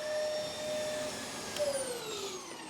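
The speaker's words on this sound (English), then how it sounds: "you can see it's spinning that TurboCat very efficiently, and it doesn't stop" A Zero G vacuum cleaner runs steadily with its TurboCat brush head spinning, giving a continuous whine with a tone that shifts downward partway through as the motor slows slightly under load, heard up close and alone.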